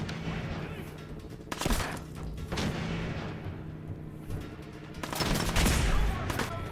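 Enemy gunfire in Fallout 4 on survival mode, bursts of rapid shots and booming volleys coming in two heavy clusters with quieter rumbling between them.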